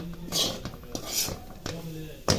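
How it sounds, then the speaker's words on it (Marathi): Wet grated coconut is stirred and roasted in a pan over a medium flame, with a spoon scraping and clinking against the metal in quick, repeated strokes close by. "असं सारखं हलवत राहायचं मीडियम फ्लेमवरती"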